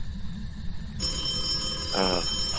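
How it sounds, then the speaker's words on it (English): A ghost-hunting phone device sounds a short electronic bell-like ring lasting about half a second, rising over a steady background hiss with no talk. "Saying ring the bell sometimes makes him ring the bell."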